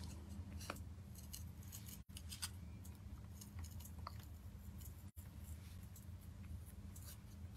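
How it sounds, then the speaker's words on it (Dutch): Scissors cutting paper for a craft kit, faint, repeated snipping crunches spread through a quiet room, with no talk. "Even rustig de tijd nemen om het goed te knippen."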